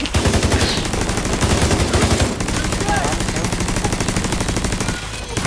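Automatic gunfire in The Division 2 closed alpha, a dense loud burst of rapid shots running almost continuously, with a brief break midway and voices in the background.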